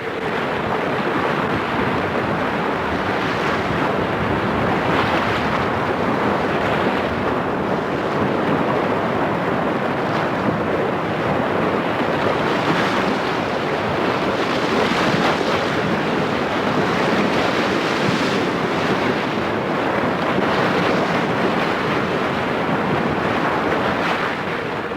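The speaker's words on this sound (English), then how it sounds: "Strong winds from the open sea unleash their power against the ice." Strong wind off the open sea drives waves against polar ice, making a continuous, dense roar of wind and surf that surges and swells without pause.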